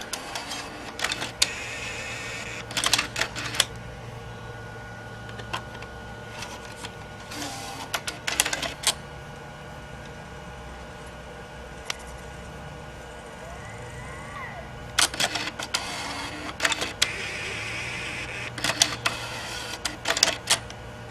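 A Nakamichi 5-disc CD-ROM changer mechanism whirs and clicks as it swaps discs, giving repeated bursts of mechanical clatter and motor buzzing separated by quieter hum, close up.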